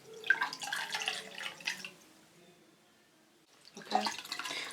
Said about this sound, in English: You just wet this with water.